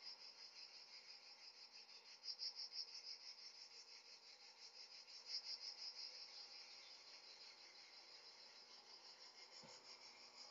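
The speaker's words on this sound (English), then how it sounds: "get your computer or your Echo device to play some cricket or cicada sound" Recorded cricket or cicada sounds played back on a computer or smart speaker: a continuous high, pulsing insect chirr with steady rhythmic trills, quiet and evenly sustained, with no voices.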